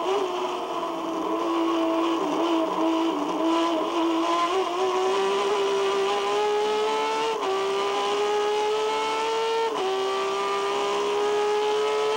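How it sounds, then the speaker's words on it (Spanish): Turismo Carretera race car engine heard from an onboard camera at the 2005 race in 9 de Julio: a loud, steady high-revving drone climbing in pitch with two brief gear-change dips, continuous throughout with no talk. "Desde arriba del auto de Matías Rossi"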